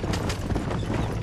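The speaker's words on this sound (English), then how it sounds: "I'm going as fast as these two horses will let us go." Horses galloping in the Red Dead Redemption video game, a pair of them pulling together, their hoofbeats thudding steadily and close amid a continuous rumbling layer, with no talk over them.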